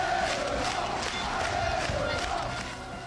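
Orange-clad Le Mans fans cheering a basketball championship title, a large crowd roaring and chanting in a continuous loud wall of voices that eases slightly toward the end.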